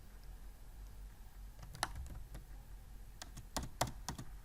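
Faint keystrokes on a computer keyboard come in sparse, irregular bursts of light clicks against a quiet room hum, with a couple of slightly sharper taps near the end.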